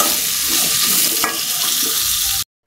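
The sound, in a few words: frying potatoes in a kadai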